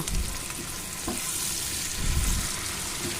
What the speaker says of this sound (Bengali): এইবার আমি আবার এটাকে একটুখানি ভাজতে দেবো যতক্ষণ না টমেটোটা একটু নরম হয়ে যাচ্ছে